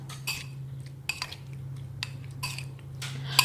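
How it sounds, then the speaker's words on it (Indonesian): A spoon scrapes and clinks against a bowl in short bursts while a marinade with vegetable oil is stirred, close by, over a steady low hum. "Aduk-aduk hingga semua bumbunya tercampur rata."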